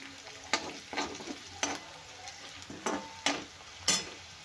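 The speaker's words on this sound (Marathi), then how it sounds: "आता आपण याच्यामध्ये घालूया हळद अर्धा चमच हळद घातली आहे" Turmeric is stirred into raw banana sambar frying in a pan, with a soft sizzle under repeated scraping strokes of a spoon, about seven in a few seconds, close and moderately quiet.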